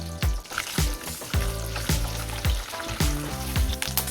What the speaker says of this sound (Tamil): இந்த அளவுக்கு தேங்காய் வதக்கிட்டோம்.